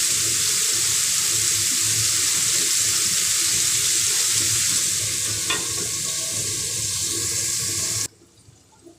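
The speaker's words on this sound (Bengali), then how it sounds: "কুমড়োগুলোকে ঢাকা দিয়ে একটু ভাজা করে দিই" Pumpkin pieces fry in a covered pan over a lowered gas flame, giving a steady close hiss that runs unbroken before cutting off abruptly near the end.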